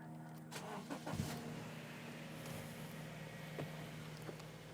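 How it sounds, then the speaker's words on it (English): A Subaru engine with a CVT starts and settles into a steady idle while warming the transmission fluid, a low continuous hum with a brief crank-like burst near the start. "So we'll start the engine and let this run."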